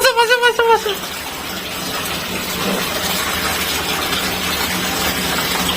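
A small child bathes in a water-filled drum, churning and splashing steadily at close range after a brief high vocal cry at the start.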